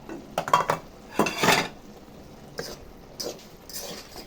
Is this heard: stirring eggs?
yes